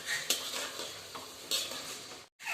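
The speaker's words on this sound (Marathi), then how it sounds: "यात टाकणार आहोत आपण चाट मसाला मस्त असं मिक्स करून घेऊया" Sprouted moth beans being stirred with chaat masala in a hot pan, with a steady soft sizzle and scraping spoon strokes, a few sharper scrapes, and a brief silent gap near the end.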